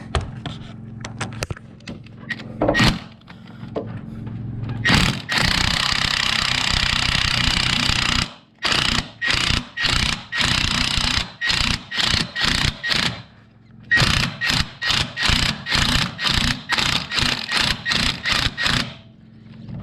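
A power tool, likely an impact wrench, hammers at a shock absorber bolt on a third-generation Dodge Ram truck during a leveling kit install, with long loud rattling bursts followed by many short repeated bursts, close and harsh.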